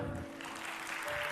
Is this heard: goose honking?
no